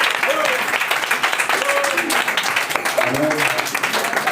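Church congregation applauding in acclamation, steady mass clapping filling the space, with faint voices and music mixed in underneath.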